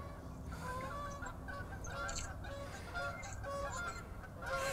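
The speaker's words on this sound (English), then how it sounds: "morning geese." Geese honk repeatedly on a winter morning by a fishing lake, several birds calling in overlapping bursts at moderate distance, with no talking.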